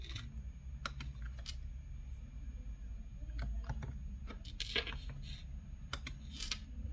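Typing on a computer keyboard in a macOS terminal: quiet, irregular clusters of key clicks and taps, close up, with no talking.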